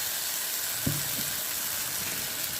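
A tempering of mustard seeds and dried red chillies poured into hot oil, giving a steady soft sizzle with one brief knock of the pan, fairly quiet and without talk.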